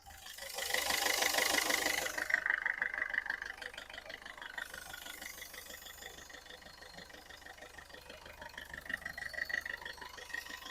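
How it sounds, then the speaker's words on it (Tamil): A 2010 Ford Figo diesel engine idles with a steady low rumble and rhythmic knocking, loudest at the start, then settling into an even, close chugging. "இன்ஜினோட நாய்ஸ் நான் உங்களுக்கு மைக்கு பக்கத்துல வச்சு எப்படி இருக்குன்றத காட்டுறேன்"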